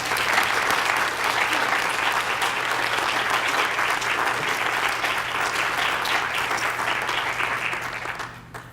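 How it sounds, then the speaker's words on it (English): An audience at an ACLU Michigan meeting gives a sustained round of applause, dense and even throughout, with crowd murmur blended in before it fades out at the end. "So if we could give her a round of applause right now as well."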